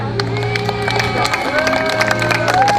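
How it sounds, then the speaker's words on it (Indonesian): A crowd claps in scattered, rapid bursts over a steady low hum, with faint tonal sounds in the background. "Kita beri tepuk tangan"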